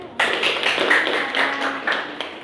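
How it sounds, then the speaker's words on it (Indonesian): Seminar audience clapping for Fajar after his talk on literature, a sudden burst of dense applause from a room of people that continues steadily and close, with no speech over it. "Beri tepuk tangan untuk Saudara Fajar."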